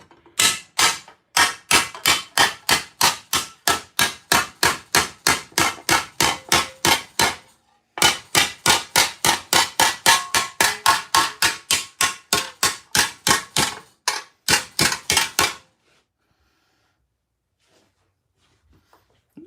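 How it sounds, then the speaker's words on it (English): Hammer strikes on metal armour being shaped, a long fast run of loud, sharp, evenly spaced blows with one brief pause, then a final burst that stops, leaving silence. "Sometimes it takes a bigger hammer."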